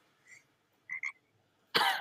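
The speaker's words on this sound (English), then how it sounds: "That was a frog." A few short croaks spaced apart, then a louder, harsh rasping burst at the end, all close by with quiet between.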